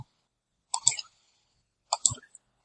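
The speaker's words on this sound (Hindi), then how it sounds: "मैं क्लिक कर रहा हूँ।" Two sharp, close computer mouse clicks roughly a second apart, each with a short double tap, heard alone against silence while working in SolidWorks 2022.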